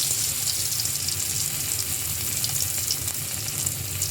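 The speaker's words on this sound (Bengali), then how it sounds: "আমি কাবাবগুলো অল্প তেলে ভাজবো" Shami kebabs fry two at a time in a little hot oil in a karahi, giving a steady, even sizzle that holds without a break throughout.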